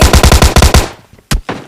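A UMP9 in PUBG Lite fires a rapid burst of about eight loud, close shots, then a pause and one more sharp report with a short tail.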